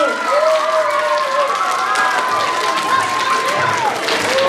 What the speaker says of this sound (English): let's give Juan and Sadie another big round of applause.